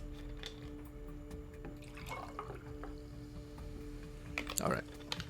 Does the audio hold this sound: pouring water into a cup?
yes